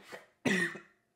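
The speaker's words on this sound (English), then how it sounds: "See, still have a cough." A single close cough, one short burst followed by a louder, rougher hacking cough with a brief pause between, heard alone without talk.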